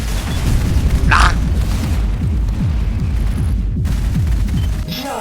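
Blasts from a firecracker in a first-person shooter game, a dense run of booming low explosions rolling on without pause for about five seconds, loud and continuous, with no speech over it.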